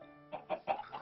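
A chicken in the Minecraft video game gives three short, quiet clucks in quick succession, alone without talk.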